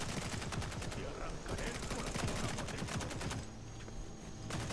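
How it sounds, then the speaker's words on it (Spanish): Video game gunfire in Redfall rattles on as rapid bursts of distant automatic shots, fairly faint and continuous, with brief pauses between volleys. "Disparos."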